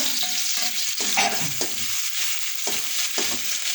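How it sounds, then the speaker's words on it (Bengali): Dried red chillies and chopped garlic frying in hot oil in a pan, a steady loud sizzle with several scraping stirs of a spatula spaced through it, close and continuous. "শুকনো মরিচ আর রসুনটা একটু ভেজে নেব"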